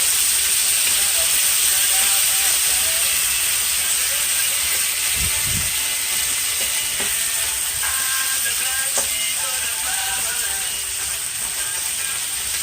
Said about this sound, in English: We're going to let that saute until it's nice and cooked.